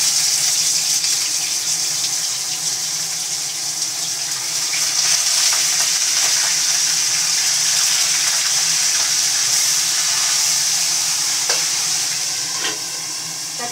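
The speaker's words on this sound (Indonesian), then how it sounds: "Ini ikannya mau digoreng ini ya." Fish fries in hot oil in a pan in a simple home kitchen, a steady loud crackling sizzle that runs the whole time with a few faint knocks near the end.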